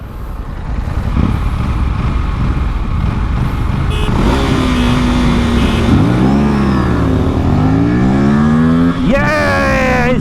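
Motorcycles, including an Aprilia RS457, KTM Duke 390, Yamaha R3 and Royal Enfield GT650, launch in a drag race, engines roaring loudly up through rising, shifting revs close by, with voices mixed in.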